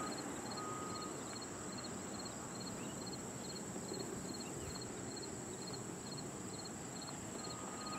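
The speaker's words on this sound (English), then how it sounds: "Did you hear the crickets chirping or?" Crickets chirp steadily outdoors during a solar eclipse, a continuous high trill with regularly pulsing chirps, moderately loud and unbroken, with no talking.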